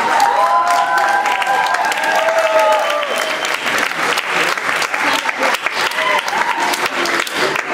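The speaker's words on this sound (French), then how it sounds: "une bonne main d'applaudissements pour cette équipe" Audience at a school math conference applauding a student team, loud, dense clapping with some cheering and voices mixed in, sustained and close throughout.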